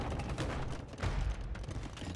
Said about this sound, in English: cannon trying to break through the walls